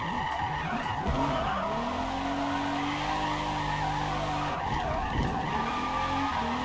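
A car drifts through a corner in the racing game Forza Motorsport, with long sliding tire squeals swooping up and down over a steady engine drone and no talk.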